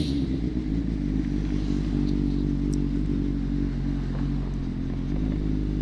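A Honda CB600F Hornet motorcycle is ridden through London, its engine droning steadily and loudly up close with wind rush over a constant low rumble.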